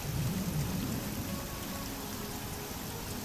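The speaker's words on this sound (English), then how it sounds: "What a surprise. More rain." Steady rain with rumbling thunder in the Oblivion video game, a constant wash of falling drops and a low thunder roll near the start, with no voices.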